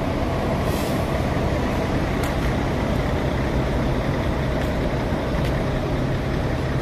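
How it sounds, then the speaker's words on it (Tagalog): A parked charter bus idling among a group of five buses on a day trip to Tanay, Rizal: a steady low engine rumble, moderately close, with faint clicks and brief hiss over the continuous drone. "Yan ang bus natin."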